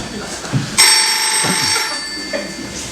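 A telephone bell rings out loud and close, a bright sustained trill that starts abruptly and lingers, preceded by a brief soft knock.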